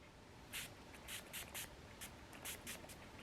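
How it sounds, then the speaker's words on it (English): Makeup setting spray misted from a pump bottle in several quick bursts, short sharp hissing puffs in an uneven rhythm, close and faint over quiet room noise. "Okay, that's an intense spray."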